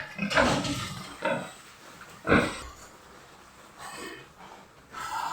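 Freshly washed pigs in a pen grunt and snort in a few loud, irregular bursts with quieter pauses between, close by.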